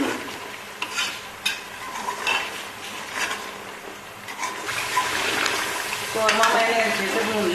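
Mutton korma with yogurt, fenugreek and garam masala is stirred and fried in a pan, with a steady sizzle and the repeated scrape and clink of a spoon against metal. The sizzle swells toward the end, and a voice is faintly present.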